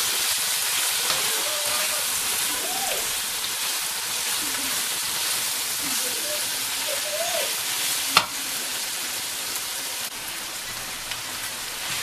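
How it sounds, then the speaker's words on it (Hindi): Vegetables sizzle and fry steadily in a hot pan, a continuous bright hiss with soft scraping from stirring and one sharp knock of the utensil partway through. "और वेजिस डाल देते हैं। और अच्छी तरह मिक्स कर लेते हैं।"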